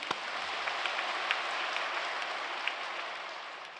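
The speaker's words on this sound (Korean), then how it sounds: "한번 박수 칩시다" Congregation applauding during a Wednesday service sermon at Yoido Full Gospel Church, a steady wash of many hands clapping together at moderate distance, sustained and even throughout with no talk over it.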